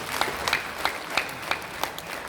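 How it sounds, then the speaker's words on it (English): A crowd applauds steadily, a dense wash of clapping with a few sharper claps standing out at irregular moments. "Can we give a round of applause for that?"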